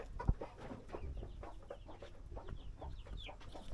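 Native chickens clucking near newly hatched chicks, with soft peeps and scattered clucks running continuously close by and one brief sharp knock near the start.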